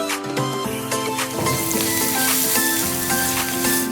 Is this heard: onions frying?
yes